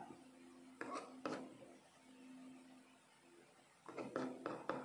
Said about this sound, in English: This is what we call a chop.